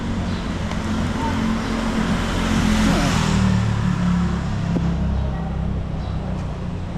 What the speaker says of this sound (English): there's all these cars